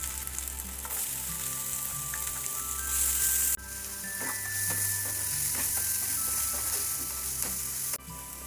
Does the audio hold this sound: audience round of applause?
no